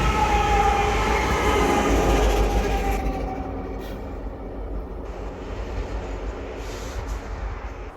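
A Union Pacific stack train rolls past on snowy Donner Pass near Truckee, a loud broad rumble that fades after a few seconds into a steadier, quieter rolling tail, with no talk.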